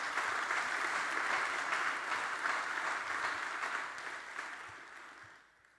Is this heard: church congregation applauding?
yes